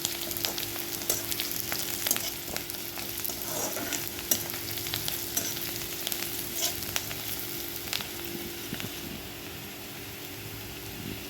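Onion frying in a pan for Marathi-style dal methi, a steady close sizzle with faint stirring, continuous and even throughout.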